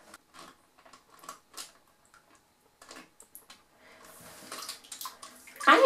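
A Finding Nemo Squirt swimming bath toy is filled with water, faint splashes and bubbling in small bursts building to louder sloshing at the end, with no talking.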